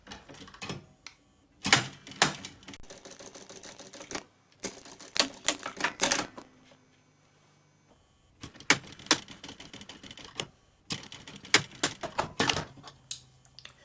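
A domestic sewing machine stitches each corner of a fabric strip for a children's lunch bag, in several short rapid bursts of mechanical clatter separated by pauses, close and fairly loud.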